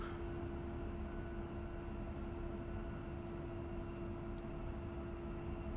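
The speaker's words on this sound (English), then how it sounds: "I'm going to back taxi here, and then we're going to be taking off runway 17 left." Steady engine roar of an A-10C II jet aircraft taxiing in the DCS World flight simulator, a constant loud drone with a fixed tonal whine running unbroken throughout, with no voices.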